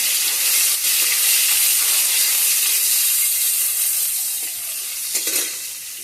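Black cumin, green chili, raw onion and bay leaf sizzling steadily in hot oil, a constant close hiss with occasional stirring scrapes and no talking.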